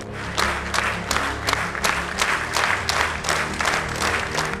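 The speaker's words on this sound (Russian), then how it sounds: "Экспрессивные выступления экс-главы сопровождали долгие аплодисменты" Loud, sustained applause from a hall audience after an expressive speech by a former regional head, many hands clapping with rhythmic surges and a low murmur of the crowd beneath.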